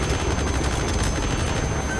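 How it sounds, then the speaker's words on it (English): Enemy gunship machine-gun fire in Metal Gear Solid V, a dense, loud continuous roar of rapid shots with booming low end, unbroken across the whole moment. "A single burst from its machine gun can cut a man in half."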